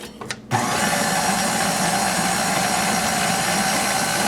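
An electric mixer starts abruptly after a few brief clicks and then runs at a steady, loud whir while beating lemon cake mix batter with lemon pudding.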